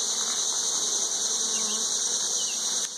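A honey bee buzzes right up close inside a beekeeper's veil, a steady, loud, continuous drone that holds for several seconds near a hive during small hive beetle trapping.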